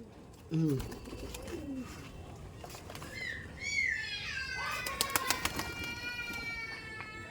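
Pigeons coo and flutter close by in an enclosed, netted loft, with a few sharp clicks and people talking softly throughout.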